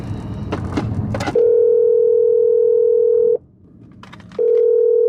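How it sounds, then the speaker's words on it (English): Ringback tone from a telephone call being placed: a loud steady electronic tone lasting about two seconds, a pause with faint room noise, then the tone returning. "Let me call him and see what he's doing."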